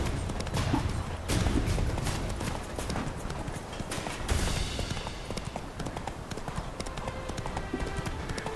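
A horse gallops in The Witcher 3: Hearts of Stone, its hooves pounding in a fast, continuous clip-clop rhythm close up and loud, with a little talk in the background.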